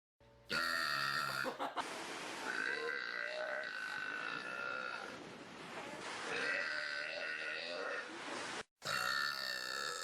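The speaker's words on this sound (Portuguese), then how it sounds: "No top de 5 arrotos e uma cabra" Long, drawn-out burps, loud and close, from a top-five compilation of burps. Several harmonic croaks run almost continuously across the stretch, with a couple of short breaks and an abrupt cut near the end.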